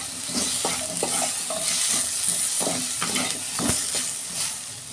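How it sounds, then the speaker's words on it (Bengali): Bitter gourd pieces frying in oil with salt and turmeric, giving a steady loud sizzle with repeated clinking stirs of a spatula against the pan, no voices. "এরকম করে আমি একটু লাল লাল করে একটু ভেজে নেব।"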